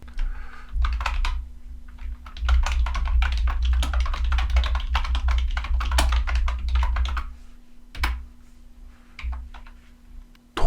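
Rapid typing on a CJ ENM N-Ntus wireless Bluetooth membrane keyboard with rattly, clacky keys gives a dense run of close clicks that thins into scattered taps, with no voices.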